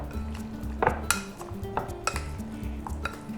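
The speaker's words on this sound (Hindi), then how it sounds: "और इसमें आधा कप दही डालूंगा और अब इसको मिक्स कर लेते।" Chicken pieces being mixed with half a cup of yogurt in a bowl for a dhaba-style bhuna chicken marinade, with a few close, clinking knocks of a utensil against the dish over a soft, wet stirring.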